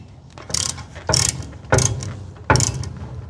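A ratchet tightens a nut on a rear axle U-joint, four short bursts of fast clicking separated by brief pauses, close and crisp with no talking.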